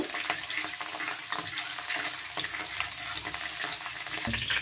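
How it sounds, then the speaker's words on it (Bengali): Chopped ginger and green chilli hit hot oil in a kadai, giving a steady dense sizzle and spatter with occasional stirring scrapes, close and continuous. "তেলটা হয়ে গেছে, আদা কুচি, লঙ্কা কুচিগুলো দিয়ে দিলাম ফোড়নে।"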